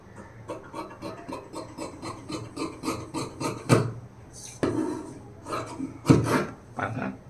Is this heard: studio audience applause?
no